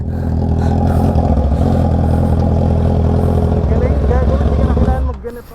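A Honda CB650R motorcycle accelerates hard, its loud inline-four engine roaring steadily and close by with a quick shifter upshift, then the roar drops away sharply near the end.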